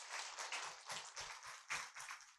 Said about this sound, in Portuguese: Pedimos uma calorosa salva de palmas para este momento